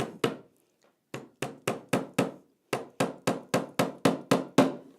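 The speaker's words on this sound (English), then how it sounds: "I didn't hammer that in hard enough." Sharp hammer blows drive carpet tacks into a wooden frame, about a dozen close, loud strikes arriving in quick bursts with short pauses between groups.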